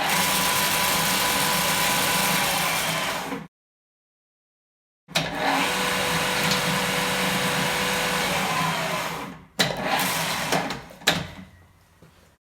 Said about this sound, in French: Voici un comparatif de la vitesse maximale et de la vitesse minimale.